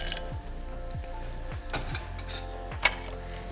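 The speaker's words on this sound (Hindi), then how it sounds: "चिकन फ्राई पे रख दिए" Chicken frying in a pan in a home kitchen, a steady close sizzle running throughout with faint stirring scrapes and one brief clink near the end.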